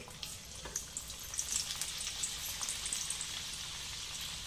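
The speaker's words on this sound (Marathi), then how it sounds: "तर मी ह्या टाकते तेलात. तेल तापलेलं आहे." Bitter gourd slices frying in hot oil, a steady close crackling sizzle with scattered sharper pops that swell slightly after the first second and then hold even.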